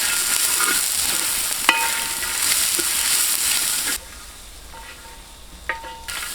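Capsicum stirred into sautéed cashews, garlic and onion in a pan for Indo-Chinese dragon chicken: a close, steady sizzle with a few sharp spatula clicks and scrapes, quieter toward the end, and no talk.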